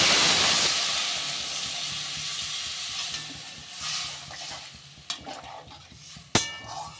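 Water poured into a pan of sizzling spice paste for a curry of spring onion stalks, flat beans and khoira fish, starting with a loud broad hiss that gradually fades into softer bubbling, broken by a few sharp clinks of a utensil.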